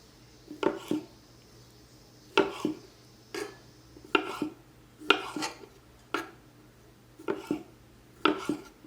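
Large red grapes being quartered with a knife on a cutting board, a series of crisp, separate chopping taps in an irregular rhythm, close and fairly quiet.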